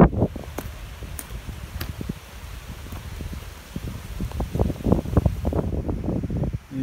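Gusty wind buffets the microphone at a remote lakeside camp on the northern Llyn Peninsula in Wales, a loud, uneven low rumble that swells and fades throughout.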